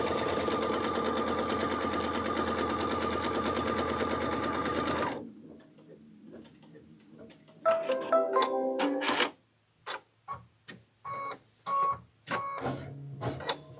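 A sewing machine stitches quilting on a quilt block: a steady, close mechanical whirr for several seconds, then quieter stretches broken by short start-stop bursts of stitching.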